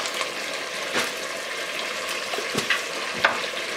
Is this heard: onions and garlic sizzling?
yes